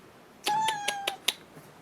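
A cat meows in a short run of five bright, closely spaced calls, loud and close, with quiet around them.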